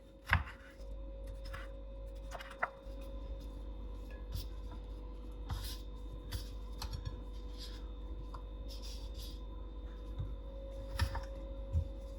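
A knife slicing a tomato into pieces on a board, producing a series of quiet, irregular crisp taps and cuts over a low steady hum.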